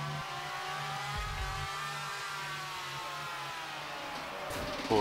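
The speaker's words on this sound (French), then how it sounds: "Il va falloir faire respirer un peu le moteur." A racing motorcycle engine in the MotoGP Ultimate Racing Technology video game at Jerez revs high and steady, a loud continuous whine rising and falling slightly throughout.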